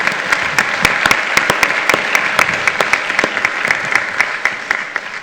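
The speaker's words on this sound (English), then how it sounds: "Can we give them a round of applause?" Audience applause at a community mayoral forum held in a school venue: dense, sustained clapping from a sizable crowd, steady and fairly loud throughout with sharp individual claps standing out.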